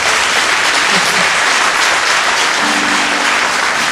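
An audience at a 2022 music festival concert claps steadily in dense, even applause that holds at a loud level for about four seconds, with a faint voice near the end.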